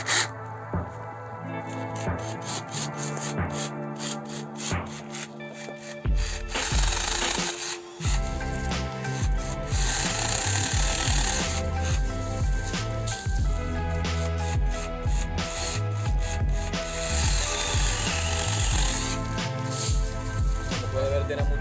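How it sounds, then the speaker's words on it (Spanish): A small battery-powered pruning mini chainsaw cuts through tree branches outdoors, a steady buzzing motor whine that deepens and roughens as the chain bites into the wood, continuous for the whole stretch. "vamos a proceder a cortar unas cuantas ramas para probar la efectividad de esta motosierra de poda a batería"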